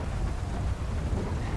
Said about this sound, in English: the immense rain is going to ruin my grip